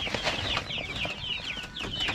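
Pet chickens clucking while hungry before feeding, a run of close, rapid, high-pitched clucks and chirps that continues steadily over a soft farmyard background.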